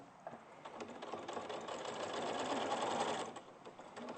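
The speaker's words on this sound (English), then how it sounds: "Just hand crank it round." A sewing machine turned slowly by its hand crank gives a steady mechanical whirring and clatter that swells in the middle and then eases, close up with no talk.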